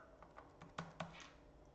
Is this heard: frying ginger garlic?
no